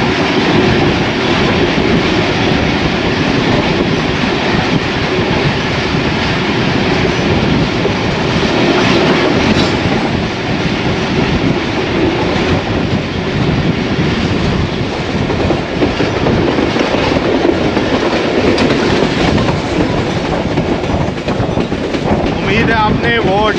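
A freight train loaded with colourful containers rolls past close by, its loud steady wheel rumble and rhythmic clickety-clack continuing throughout, heard from aboard a passenger express.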